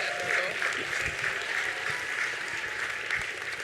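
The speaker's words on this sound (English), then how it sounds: "Big round of applause." Sustained applause from a gala audience after a fundraising pledge, dense and steady across the hall for the full stretch, with a faint voice briefly audible early on.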